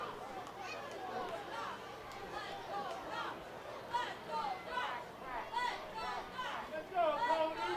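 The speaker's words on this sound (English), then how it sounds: "Let's go Ducks is the chant from the crowd." Crowd at a Skeeters at Ducks minor league baseball game chanting "Let's go Ducks," with rhythmic group voices and general crowd chatter rolling on steadily throughout.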